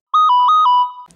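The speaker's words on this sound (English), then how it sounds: "That's my phone." A phone ringtone plays a short, loud run of bright electronic beeps in a quick, even rhythm, then cuts off. Nobody talks over it.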